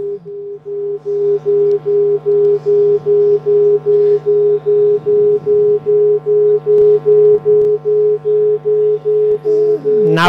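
Steady electronic microtone standing in for shades of green in a color-to-sound demonstration, a sustained pure pitch with harmonics pulsing in regular short beats, loud and alone without talk.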